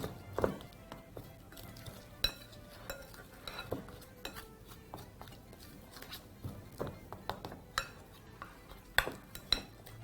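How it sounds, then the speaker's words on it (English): Spoon tossing chicken pieces and sweet potato with seasoning and oil in a bowl gives scattered light clinks and scrapes in an irregular rhythm, close and fairly quiet, with no talk. "by using a spoon, proceed to mix this through. Of course, tossing in the bowl"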